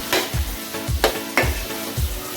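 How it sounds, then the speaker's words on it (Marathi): Potato pieces sizzle loudly in a hot pan while being stirred in four rhythmic, scraping strokes, close up with no voices, while cooking a prawn and fresh cashew dish. "थोडासा बटाटा पाच मिनटं मी हे बघा फ्राय करून घेते"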